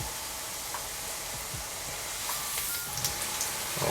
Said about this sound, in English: I'll fry them on both sides.